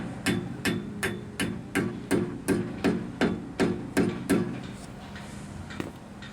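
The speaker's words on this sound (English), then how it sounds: "Carefully tap it in with your hammer." A series of about twelve sharp metal taps from a hammer driving a bearing cap into the wheel hub of a 1997-2004 Ford F-150 4.6 2WD, at a steady rhythm, close and fairly loud, then quiet with one last light tap.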